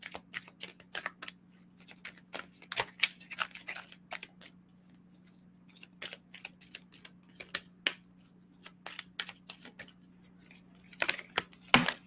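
Sticky oracle cards shuffled repeatedly, irregular crisp flicks and slaps arriving in clusters over a faint constant hum, close by and with no voices.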